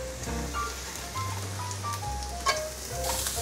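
Carrots and slightly browned king oyster mushrooms are tossed quickly in hot oil in a pan, giving a steady crackling sizzle with scraping stir noises. A soft low hum sits beneath it.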